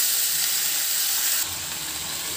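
Marinated chicken with spices and a whole dried red chilli frying in a pan, a loud, steady hiss of sizzling oil that fills the whole stretch without pause.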